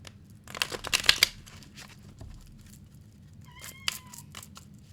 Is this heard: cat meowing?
yes